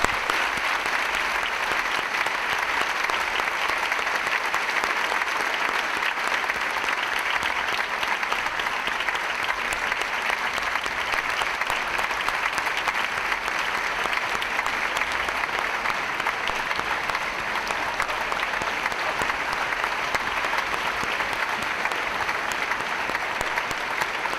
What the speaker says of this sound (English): How about another round of applause for our district choir?